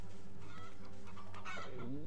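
Clucking of a chicken in the video game Zombie Heart Chicken on the OUYA console, a few short cackling calls over a steady electronic game music bed, fairly quiet.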